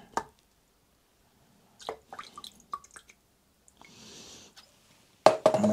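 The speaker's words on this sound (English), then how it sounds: "put the acid in there." An acid solution goes into the steel fuel tank of a Yamaha Virago 1100 motorcycle: a few scattered drips and taps, a faint stretch of trickling liquid, then a sudden louder splashing pour at the end.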